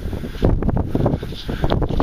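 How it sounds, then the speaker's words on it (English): Strong gale wind buffets an outdoor microphone during metal detecting in the UK, a loud continuous rumbling roar with gusty swells and no clear speech. "Sorry about the wind, it's blowing a gale today."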